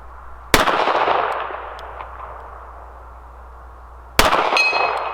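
Two sharp, loud shots from an S&W 642 revolver firing .38 Special 158 grain rounds, spaced several seconds apart, each followed by a ringing decay.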